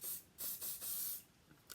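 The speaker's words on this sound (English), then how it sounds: "Right, so just spray that a bit more." Extra firm hold hairspray is sprayed onto hair from an aerosol can in several short hissing bursts, close and soft, separated by brief pauses.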